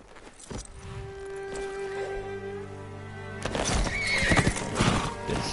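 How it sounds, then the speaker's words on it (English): A horse whinnies loudly, followed by clopping hooves and a second, louder neigh over a low background hum, in the video game Ghost of Tsushima. "sound of this horse."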